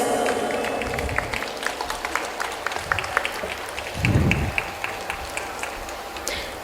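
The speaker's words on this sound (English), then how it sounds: "have a huge round of applause" An audience claps at a school annual day celebration after a student's state-level chess award is announced, a steady moderate patter of many hands that holds throughout with a brief louder swell midway.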